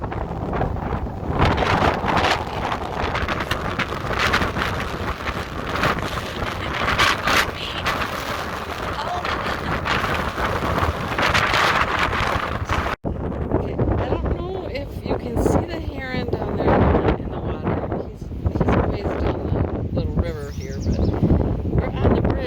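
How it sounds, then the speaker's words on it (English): Strong gale-force wind buffets the microphone on an exposed bridge, a loud continuous roar and rumble that drops briefly partway through before gusting on; a person speaks underneath the blustering noise. "it's like being in some gale force wind, and I'm having a hard time walking across the bridge"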